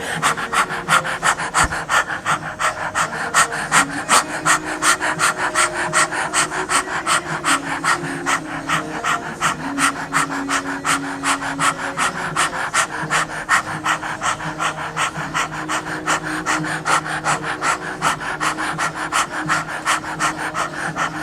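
Rapid, rhythmic yogic breathing pumped from the navel with the tongue stuck out, like fast panting at a steady pace of several breaths per second, close and loud, continuing without pause throughout.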